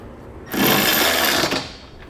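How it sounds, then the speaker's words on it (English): A 3/4-inch socket snugs 1/2-inch flange nuts while a Curt trailer hitch receiver is mounted on a 2017 Mazda CX-5: one loud buzzing burst lasting just over a second, close up, with no voices. "For our 1/2-inch flange nuts, I'm going to come back with a 3/4-inch socket and snug them up."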